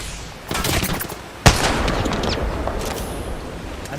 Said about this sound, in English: Kraber shot being fired.